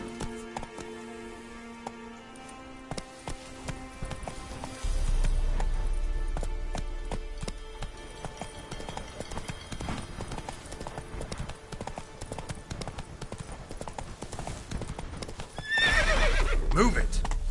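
A horse in The Witcher 3 video game, with steady clip-clop hooves picking up into a gallop, a whinny and neighing, and a low rumble of game music, while a voice speaks to the horse over the hoofbeats.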